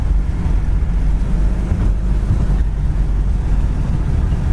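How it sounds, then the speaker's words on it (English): A 1970 Ford Mustang Mach 1 with a 351 V8 accelerating, heard from inside the car as a steady, loud low rumble of engine and road noise that runs the whole time without a break. "It's got good acceleration"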